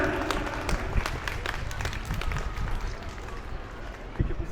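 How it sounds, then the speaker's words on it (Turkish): Applause and scattered clapping from a crowd at a children's marathon in Bağcılar, dense and steady throughout, with some background voices mixed in. "Çocuğumuzu kocaman bir alkış gelsin lütfen"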